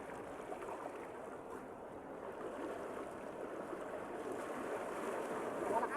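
Strong water rushes outdoors where people are bathing, a steady broadband flow that grows slightly louder toward the end, with no voices.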